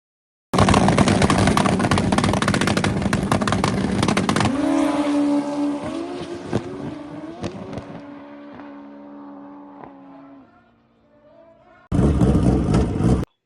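A turbocharged race car with its exhaust gone, only a short 3-inch pipe stub off the turbo, blasts loudly with crackling pops, then its engine note drops and fades. After a brief near-silence, another harsh roar bursts back in.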